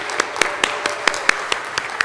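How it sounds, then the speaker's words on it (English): Small gathering clapping for a charity kickball team at a banquet, a handful of crisp, evenly spaced claps standing out over a soft wash of background applause. "would you please stand and receive a round of applause"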